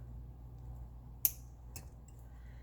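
Wire cutters snipping a wire tail while making a Swarovski crystal bead purse fob, one sharp close click followed by a softer second tick over a quiet room hum.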